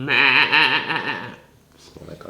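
A person mimics a goat's bleat with a wavering, quavering voice for about a second and a half, loud and close, followed by faint background noise.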